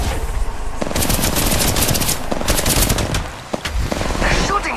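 Rapid machine-gun bursts in Apex Legends Mobile, a loud close volley of sharp repeated shots that stutters, pauses briefly and resumes, with more shooting trailing toward the end.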